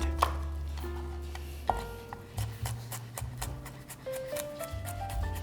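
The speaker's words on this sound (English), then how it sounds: "I'm just going to crush it and then finely chop it." A knife chops crushed garlic finely on a board for vegan chili beans, making soft, close, irregular taps in quick runs.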